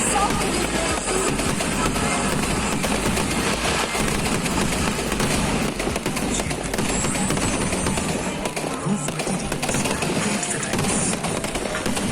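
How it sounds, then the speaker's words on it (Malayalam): Dense, continuous crackling blasts and rapid bursts of explosions, loud and sustained throughout, like a big fireworks barrage heard up close, at the Pindi Perunnal church festival in Irinjalakuda, Kerala. "അത് കഴിഞ്ഞ ഉടനെ തുടങ്ങായി വെടിക്കെട്ട്"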